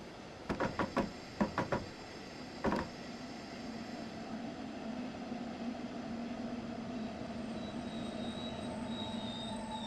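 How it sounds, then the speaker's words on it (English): A video game train, a Dresden S-Bahn in Germany, brakes to a halt with a few sharp clunks at first, then a steady low hum and a faint high squeal as it settles. "Apply a small amount of braking force using the train brake to achieve a comfortable and safe stop."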